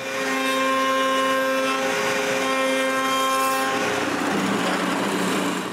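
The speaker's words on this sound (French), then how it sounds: "je change de mèche pour un quart de rond et j'arrondis tous les tours" A wood router fitted with a quarter-round bit rounds the edges of cut wooden circles, giving a loud, steady high-pitched whine with a tonal hum that drops and roughens as the cut finishes.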